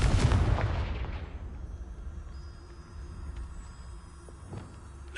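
Confringo blasting spell in the video game Hogwarts Legacy: one loud explosive burst at the start, fading into a long rumbling decay with faint scattered crackles.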